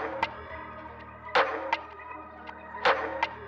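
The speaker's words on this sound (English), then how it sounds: "The final sound for the second section of the loop was a percussion slash" A percussion texture loop from a sample pack is heard on its own, with sparse sharp clicks and scraping hits at an irregular pace over a faint sustained tonal hum.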